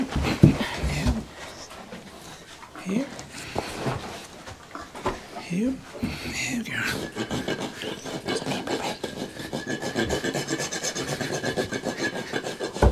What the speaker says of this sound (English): really most of it I can take off with a rasp